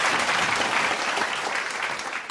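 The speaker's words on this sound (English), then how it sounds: "Let's give him another round of applause." A crowd at a special program welcoming President Masaichi Hori to the Philippines breaks into a brief, full burst of clapping, dense and close, lasting just over two seconds.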